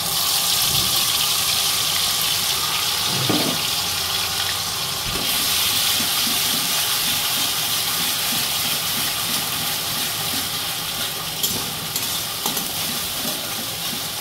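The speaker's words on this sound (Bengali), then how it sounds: "আমি এবার এর মধ্যে দিয়ে দিচ্ছি একটা গোটা পেঁয়াজ, সঙ্গে আমি কটা কাঁচা লঙ্কাও বেটে নিয়েছি।" A whole onion and green chilli paste go into hot garam masala in a pan for a Bengali stuffed pointed gourd dish, giving a loud, continuous sizzle and hiss with occasional stirring scrapes.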